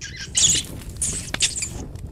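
High-pitched mouse squeaking in the horror game Layers of Fear, with a few sharp chittering bursts and a faint click, heard over a quiet, murky background hum.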